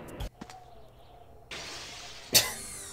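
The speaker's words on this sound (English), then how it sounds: "Why does that glass break like that?" Glass shattering in a 3D Sonic video game, with a sharp crash and a bright scattering of breaking shards near the end, following earlier thuds over steady game background noise.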